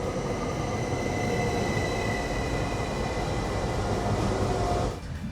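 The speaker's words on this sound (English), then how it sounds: "Here comes our train to Tallinn." A train to Tallinn pulls into the platform at Valga station with a steady, loud rumble of wheels and faint squealing, then cuts off sharply near the end.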